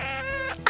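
A cat meows close up in a single drawn-out, wavering cry lasting under a second, with a brief louder squawk at the end and no talk over it.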